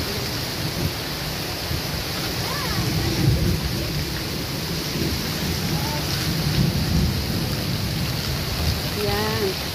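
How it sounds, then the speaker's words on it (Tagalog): Heavy rain roars steadily throughout, with low rumbling thunder rolling underneath and faint voices in the background. "Sobrang lakas ng ulan."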